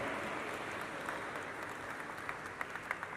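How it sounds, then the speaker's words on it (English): An audience claps in celebration at a corporate event in India, a dense steady applause with a few sharper individual claps standing out near the end. "Let us have a resounding of claps to celebrate this moment."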